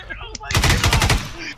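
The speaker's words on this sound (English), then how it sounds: "Stop shooting, you idiots!" Rapid bursts of automatic gunfire from an ArmA battle crackle loudly after a brief pause, a fast volley of close shots that fades out quickly, with no talking.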